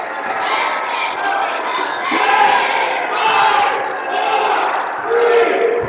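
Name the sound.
basketball student cheering section chanting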